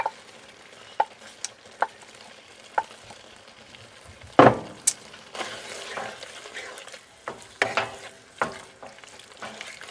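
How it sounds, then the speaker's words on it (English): Caramelized onions and mushrooms stirred into sizzling leftover pork roast in a hot pan: a steady close frying hiss broken by sharp utensil clicks and scrapes, with a louder scraping burst midway and no voices. "now I'm going to throw the caramelized onions and mushrooms back into it. Mix that in."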